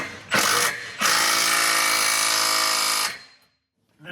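A power tool tightening sockets on a Corvette, two rattling mechanical bursts, a short one and then a longer sustained run of about two seconds, loud and close, ending in silence.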